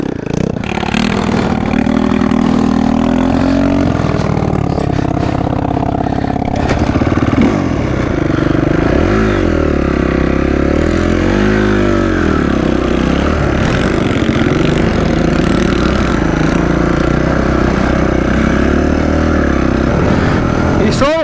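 A moped engine on a break-in ride runs continuously for the whole stretch, droning and shifting in pitch as it revs, with people talking over it.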